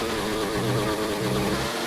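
A car engine in a racing video game strains and sounds choked, a loud, rough, continuous drone with uneven wavering pitch.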